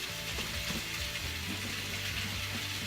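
Beet greens sizzle steadily in a hot cast iron pan, a continuous crackling hiss with faint stirring clicks and no voices.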